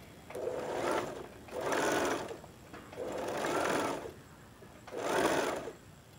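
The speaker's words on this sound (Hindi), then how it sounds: "अब इसे हम पूरे सर्कल में स्टिच कर लेंगे।" A sewing machine stitches around a fabric circle for a bow, running in four short whirring bursts with brief pauses between them, close and clear.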